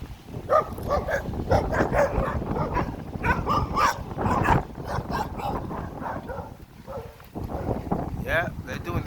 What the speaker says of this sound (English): Jamaican dogs are barking